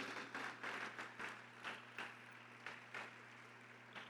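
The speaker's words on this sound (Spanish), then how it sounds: "Dele un fuerte aplauso al Dios que nos tomó por hijos" A church congregation at a Spanish-language service claps faintly, in uneven bursts that rise and fade against a steady low hum.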